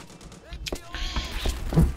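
Gunfire in the video game Turning Point: Fall of Liberty, a few sharp distant-sounding shots and thuds scattered over a quiet background with a voice talking briefly.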